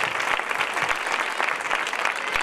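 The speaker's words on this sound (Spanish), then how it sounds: "un fuerte aplauso para ella" Warm applause fills an outdoor fair coronation ceremony in Facinas, a sustained crowd of clapping hands honouring the presenter, loud and continuous throughout.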